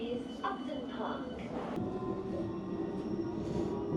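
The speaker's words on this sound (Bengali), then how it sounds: "This is the District Line train to Upton 3. The next station is Upton Park." London Underground District Line train riding toward Upton Park, a steady rumbling roll with a faint squeal, close by, under a recorded announcement voice.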